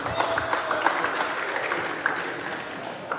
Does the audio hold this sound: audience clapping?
yes